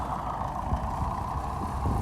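A tractor engine runs steadily during herbicide spraying of a corn field, a continuous loud idle-like drone with a strong hum and low rumble throughout.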